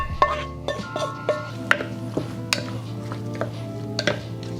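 Beef stew ingredients being stirred in a metal pot produce repeated clinks and scrapes of a spoon against the sides, irregular and close, with a low steady hum underneath.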